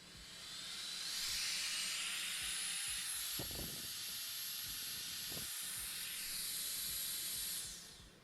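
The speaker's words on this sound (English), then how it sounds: "I can hear how they are restraining the airflow." A DIY brushless-motor turbo air blower spins up into a loud, steady rushing hiss with a rising high whine. The airflow sounds restricted by small rear holes. It runs for several seconds and then winds down.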